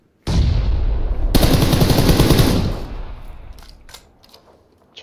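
PUBG gunfire: a loud, sharp automatic burst lasting a couple of seconds, then a fading rumbling tail and a few faint distant shots.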